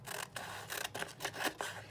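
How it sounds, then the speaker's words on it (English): Scissors snipping along the edge of a paper journal page, a quick run of close, crisp cutting strokes in a steady rhythm. "I would just cut along the edge of my page"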